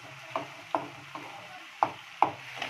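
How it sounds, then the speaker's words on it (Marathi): Whole spices being stirred and roasted in a hot pan until reddish while cooking a soybean curry, with soft sizzling and about five sharp scraping clicks of a spoon against the pan at uneven intervals. "छान लालसर होईपर्यंत भाजून घेऊया"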